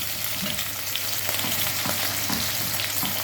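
Cubed meat frying in oil with rendered lamb fat for an Egyptian pot kebab, a dense steady sizzle with crackling pops throughout, close and loud with no talking.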